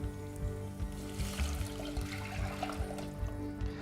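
Water pours and splashes steadily into a pan nearby, a continuous sloshing stream with slight bubbling, no talking.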